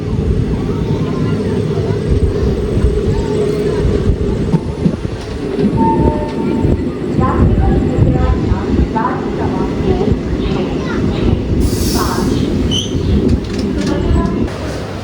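A train rumbles and clatters steadily as it rolls into a railway station, with a few brief tonal squeals over the rail noise and people talking faintly.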